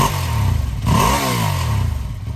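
Ducati motorcycle with its stock exhaust and the dB killer removed, engine revved hard from idle toward full power; a loud, steady roar with rising harmonic sweeps at close range, no talking.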